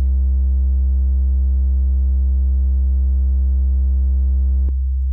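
A steady, loud sine tone plays through the AIR Soft Clipper plugin set to a tan and sine shape, rich in even harmonics. It holds unbroken for almost five seconds, then clicks off abruptly and returns briefly.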